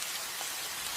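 Steady rain pours down in an animated rainy-day scene, a dense, even hiss of drops on surfaces that holds without a break, with no voices.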